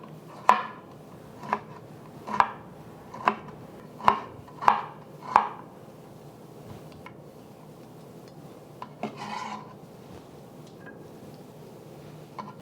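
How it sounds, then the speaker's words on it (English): A knife on a cutting board julienning half an English cucumber for dan dan noodles gives seven crisp, evenly spaced chops close by, followed by quiet handling with no talk. "we're just going to slice this julienne it to add some freshness to our noodles"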